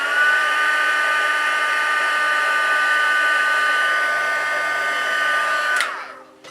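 A hair dryer used as a heat tool to set paint runs with a steady, even whine for about six seconds, then cuts off abruptly.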